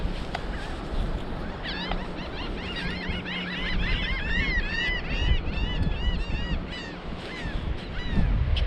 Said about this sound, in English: How about these gulls laughing at us?